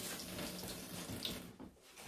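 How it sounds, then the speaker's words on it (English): Water runs steadily from a bathroom tap during handwashing, a continuous soft hiss and splash that eases slightly near the end, with no talking. "Wash my hands first, otherwise I can't open the shower"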